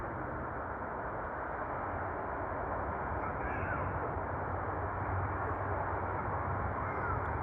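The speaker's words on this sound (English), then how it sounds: "Let us get some natural birds." Crows caw near Sydney Airport against a steady, loud wash of broadband outdoor noise that runs unbroken throughout, the calls blending into the constant roar.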